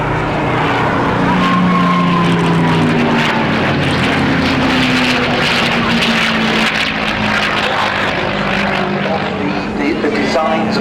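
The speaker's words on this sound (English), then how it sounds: "P51 Mustang." P-51 Mustang propeller fighter flying past at an air show, a loud continuous engine roar with shifting pitch that swells and sustains throughout, drowning the crowd ambience.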